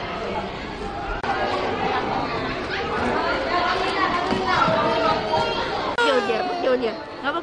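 Many small children fill a busy vaccination center in Da Nang, Vietnam, making a steady crowd din of babbling, chatter and cries throughout, with some adult voices mixed in.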